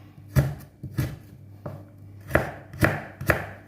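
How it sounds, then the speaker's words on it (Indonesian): A knife chops galangal into small pieces on a board, giving about six distinct, uneven thuds spaced across a few seconds. The chops are close and fairly quiet. "Kita potong lagi dia menjadi lebih kecil lagi."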